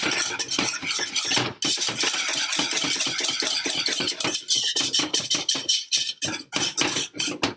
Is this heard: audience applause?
no